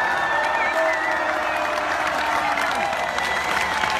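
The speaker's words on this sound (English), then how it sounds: "Applause for a little scary ghouls here tonight" An audience at a Halloween-style show greets two small costumed children dressed as ghouls with steady applause and cheering, a dense continuous wash of clapping with shouts and whoops mixed in, holding at an even loudness throughout.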